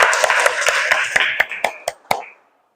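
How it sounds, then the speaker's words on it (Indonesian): A classroom of students clapping in unison, a quick series of sharp, rhythmic claps that slow and thin out before stopping, close and fairly loud. "Oke, tepuk tangan untuk semuanya."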